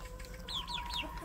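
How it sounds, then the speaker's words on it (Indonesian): Village chicken chicks feeding on wet mash and leftover rice give three quick, high, rising peeps in a row, close and fairly faint, over a low steady background hum. "ini anak ayam kampung saya tadi sudah cukup kenyang ya"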